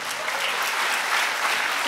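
An audience claps steadily through the whole stretch, a dense, even burst of applause from a crowd at a talk on running life and business by principles.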